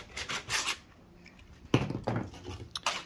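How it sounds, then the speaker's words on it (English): A few scraping, rubbing bursts of an old sanding belt being pulled off a Makita belt sander, close and irregular, separated by short pauses. "Now you can remove your old sandpaper."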